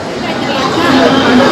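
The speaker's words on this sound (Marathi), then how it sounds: "बाप रे किती आहे गर्दी." A dense crowd murmurs and chatters all around, a continuous hubbub of many voices close by, in Dadar, Mumbai, on a Sunday.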